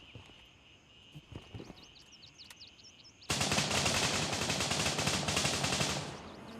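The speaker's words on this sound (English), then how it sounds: "Because I'm hearing that gunfire. And it seems fairly close by." Rapid bursts of automatic gunfire in the tactical shooter game Gray Zone Warfare break out suddenly midway and continue as a steady rattling fusillade, moderately distant, over a quiet ambient background with faint bird chirps.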